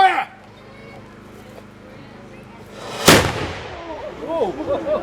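A single loud cannon shot booms sharply after a quiet pause, followed by cheering voices and chatter as the echo dies away.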